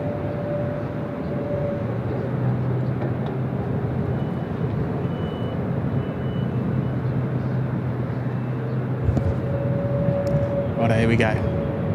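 A Jetstar airliner on flight 47 to Seoul takes off from Sydney Airport, a steady distant engine rumble and whine holding throughout while someone speaks briefly near the end.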